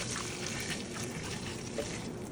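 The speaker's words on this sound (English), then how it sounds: "So we're gonna take some hot water and throw on it." Hot water poured over a raw crab being cleaned for Trinidadian curry crab, a soft steady splashing and trickling that runs quietly for a couple of seconds with no talking.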